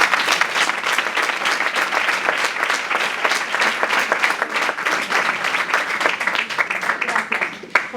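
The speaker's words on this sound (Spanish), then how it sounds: "Un aplauso" A crowd bursts into sustained, vigorous applause, many hands clapping close and loud in a dense, even rhythm for the whole stretch.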